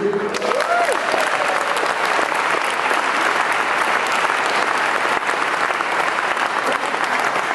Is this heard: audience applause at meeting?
yes